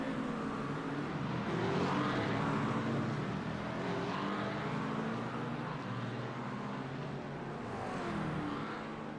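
GT race cars lap the Nürburgring during an 8-hour endurance race, their engines droning and swelling as they pass in overlapping waves, heard from a distance as a continuous blended roar.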